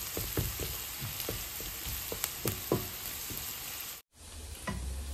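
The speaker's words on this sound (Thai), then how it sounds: "เจียวหอมกับกระเทียมนะคะแถมใส่พริกเม็ดไปด้วยจ้ะ" Shallots, garlic and dried chilies fry in oil, giving a loud, close, constant sizzle with scattered sharp pops and stirring clicks, briefly cut by a short silence.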